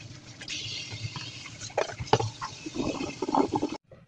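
Water pours and splashes steadily as boiled pigeon meat is drained and rinsed, with clattering and sloshing from the meat being washed, close by, ending abruptly.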